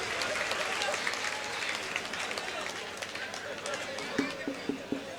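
An audience at an All India Mushaira in Nanded claps continuously in a dense, fairly distant wash of applause, with crowd chatter mixed in and a few sharper claps standing out near the end.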